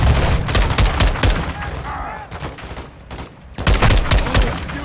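Bursts of rapid automatic gunfire from Call of Duty: Modern Warfare 2 combat, loud and close, clustered at the start and again near the end with a quieter stretch of scattered shots and faint voices between.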